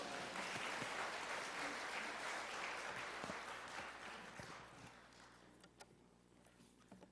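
A church congregation applauds to welcome a pastor to the pulpit, a dense, steady wash of clapping that gradually thins and fades out, leaving a few scattered claps near the end.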